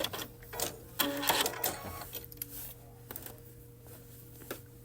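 A sewing machine stitches a decorative feather stitch along quilt binding: a soft, quick mechanical whir in close, uneven bursts that taper to quieter running and light taps.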